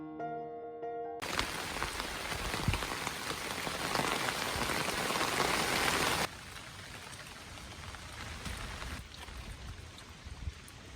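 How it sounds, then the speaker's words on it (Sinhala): Heavy rain pours over a Sri Lankan tea estate as a loud, dense, steady hiss of drops striking leaves and surfaces, nearby and continuous, easing slightly partway through; a brief musical tone comes just before it, and no one speaks. "ඊට පස්සේ නම් හොඳටම වහින්න පටන් ගත්තා"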